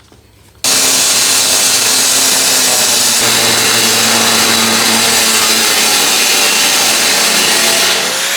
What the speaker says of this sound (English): So we're going to cut this one all the way down, weld on the hinges, and then we'll cut the rest of it.